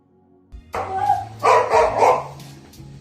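A dog barks angrily at a person slapping its companion, a few sharp, loud barks close by in quick succession, alone with no talk.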